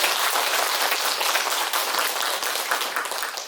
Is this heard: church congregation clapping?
yes